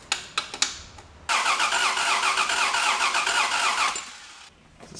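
A Toyota Soarer Z10 engine cranks steadily on its starter for about three seconds without catching, the loud whirring churn cutting off abruptly, preceded by a few sharp knocks and clicks.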